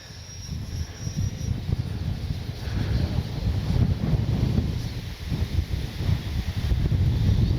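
Heavy wind buffets the microphone with a constant low rumble and gusty swells, with no voices, at an outdoor RC jet flying session.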